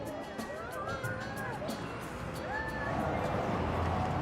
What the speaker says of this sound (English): There's a crowd of people a bit away from them.